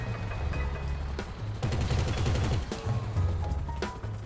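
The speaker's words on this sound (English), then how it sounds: "So I gotta use the flare gun." A flare gun fires in GTA Online, a few sharp bursts and crackling shots standing out from a dense layered game soundscape, fairly loud with no talk.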